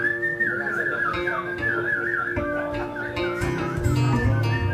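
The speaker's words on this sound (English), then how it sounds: "Bit of pub whistling." A person whistles a wavering tune up close in a pub during a folk punk gig, with background chatter and room noise beneath it.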